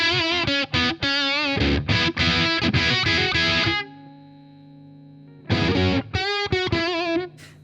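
An electric guitar played through a Valeton DS-10 distortion pedal set to tube mode gives loud, crunchy riffs and chords, a held note ringing out in the middle before the choppy playing returns.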